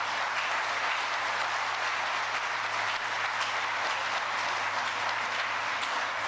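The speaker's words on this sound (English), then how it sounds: "I think that's worth a round of applause." Outdoor audience applause at a plant groundbreaking ceremony in Lancaster, a dense, steady patter of many hands clapping at moderate distance, continuing evenly without a break or voices.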